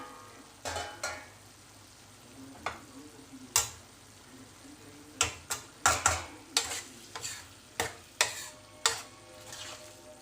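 Spatula scraping and stirring cabbage and green pea sabzi in a pan over a low flame, with about a dozen sharp, close clacks and scrapes at an irregular pace over a faint sizzle.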